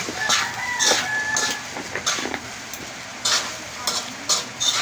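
Food being crushed and stirred in a hot pan, with irregular scraping and clattering strokes and a faint sizzle underneath, close and fairly loud, no talking.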